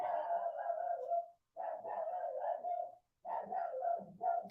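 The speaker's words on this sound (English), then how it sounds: "can you hear that crazy dog barking?" A dog barks and yelps excitedly in long, dense runs broken by two short pauses, fairly close and loud, with nobody talking.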